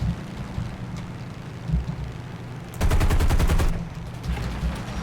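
Machine gun fire in War Thunder ground forces tank combat, with a steady rapid burst of about a second hammering over a low engine rumble, close and loud, followed by fainter scattered shots.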